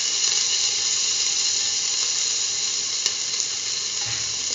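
Ginger dropped into hot oil in a frying pan gives a steady, bright sizzle that holds evenly throughout, close and fairly loud, with a faint clink partway through and no voices.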